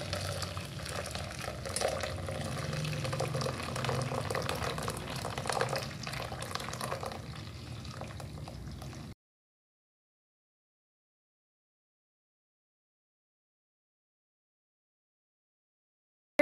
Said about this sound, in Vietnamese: Thì mình sẽ lượt qua một cái khay các bạn,